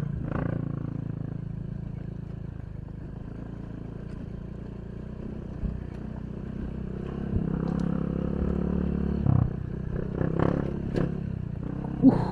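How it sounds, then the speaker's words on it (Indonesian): Motorcycle engine drones under a rider on a rural road, a low continuous hum with intermittent rattles and knocks that grow more frequent toward the end. "Bunyi-bunyi terus motor aku nih."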